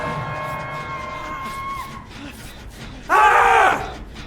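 Video game characters in Dead by Daylight let out a loud burst of screaming near the end, following quieter tonal game sounds and a background hum.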